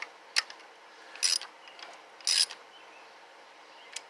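Wrench clicking as coil mounting bolts with washers are snugged down on an Evinrude/Johnson outboard engine, a few sharp ratcheting bursts and scattered ticks separated by quiet gaps, close and unaccompanied by talk.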